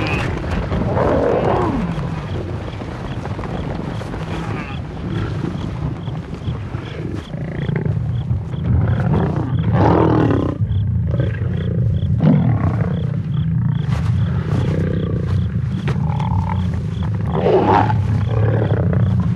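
Lions roar deeply and repeatedly over a wildebeest kill that hyenas are stealing in the wild. The close, rumbling roars carry over wind noise on the microphone, with some vocal bursts in between.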